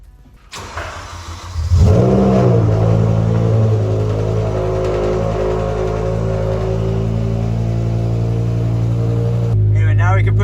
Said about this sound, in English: let's get a little V10 cold start